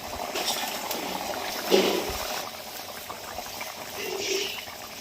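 A vegetable curry of potato and cauliflower bubbling in a pot as small khalse fish are dropped in, a steady close simmer with a brief splash, no voice present.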